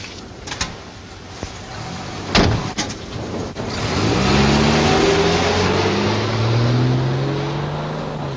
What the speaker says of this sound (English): Shall I start the car now?